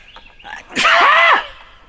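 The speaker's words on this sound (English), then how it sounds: "You're having a good cuddle stash until you sneeze." A single sharp, loud sneeze bursts out, close by, with quiet breathing sounds before it.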